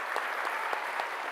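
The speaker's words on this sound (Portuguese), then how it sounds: "Palmas para ele, gente." Applause at a lecture: a steady wash of many hands clapping at moderate level, even and unbroken for its brief length.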